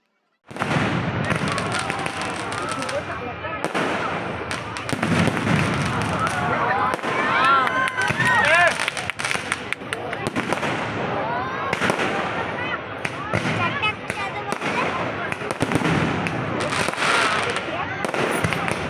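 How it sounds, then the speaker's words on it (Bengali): A fireworks display at Nicco Park amusement park in Kolkata: dense, continuous crackling and popping bursts go on for the whole stretch, with crowd voices underneath. "তারপর আমরা অনেকক্ষণ ধরে আতশবাজি প্রদর্শনী খুব সুন্দর সুন্দর বিভিন্ন ধরনের বাজি"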